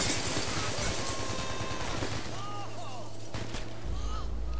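Rapid automatic gunfire in the shooter Hatred, a dense stream of shots with scattered crashes in a police encounter, steady and loud throughout, ending in a heavier low rumble.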